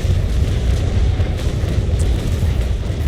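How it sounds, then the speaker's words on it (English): A sailing ship's 37-gun cannon broadside in a naval video game rolls out as a loud, continuous low rumble of booming cannon fire, heavy and close, with no talk. "that is a nice 37 gun broadside"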